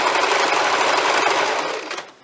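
A sewing machine stitching fabric for a hair scrunchie, a steady close buzzing run of rapid stitches that winds down and stops at the end.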